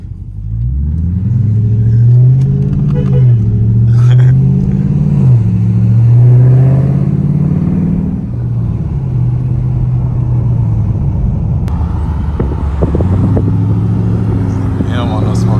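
Dodge Charger R/T fitted with 5-inch Carven exhaust tips, engine revving up and settling back to a deep idle rumble, close and loud, with a voice briefly under it.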